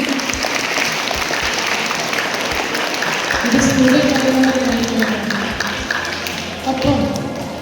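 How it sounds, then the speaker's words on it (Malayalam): Children applauding at a church parish gathering honoring religion teachers in Pulpally, a steady wash of clapping running throughout, swelling midway, with a voice speaking faintly beneath. "കയ്യടിച്ച് മക്കളെ"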